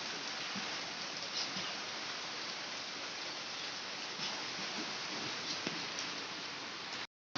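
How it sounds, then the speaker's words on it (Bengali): Heavy rain pours down in a dense, steady hiss that never lets up, then cuts off abruptly at the very end. "প্রচুর পরিমাণে বৃষ্টি হচ্ছে ঝমঝম করে বৃষ্টি হচ্ছে"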